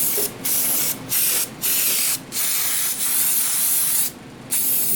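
Pressurized spray blasts down a 1974 Chevy 454 engine block during cleaning, coming as about five loud, hissing bursts separated by short pauses.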